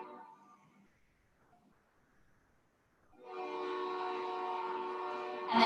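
Train passing during an outdoor yoga session, a horn blast swelling from quiet to a steady, fairly loud sustained tone over the last half, heard from a distance.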